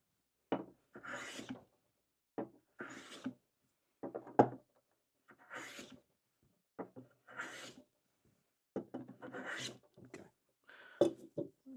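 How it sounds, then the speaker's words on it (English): Hand sanding of a wooden inlaid dovetail joint, heard as a series of separate rasping strokes in irregular bursts, close and distinct against near silence. "I'm going to sand this. Just come across one more time."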